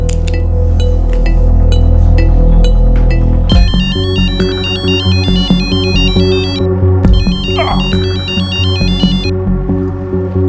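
A loud musical phone ringtone plays, a repeating chiming melody over a rhythmic backing, with no one speaking.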